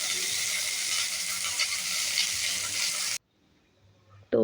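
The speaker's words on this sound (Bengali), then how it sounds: "তেলের মধ্যে অল্প অল্প করে আলুগুলো ছেড়ে দিচ্ছি।" Potatoes fry in hot oil with turmeric, a loud, steady close sizzle that cuts off abruptly, leaving near silence before a sharp burst of sizzling returns at the end.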